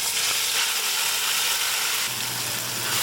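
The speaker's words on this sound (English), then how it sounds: "we're going to saute our onion until it's nicely cooked" Onion with cumin seed, garlic, ginger and green chili sautéing in a pan, a steady close sizzle with a faint stir partway through, no voices.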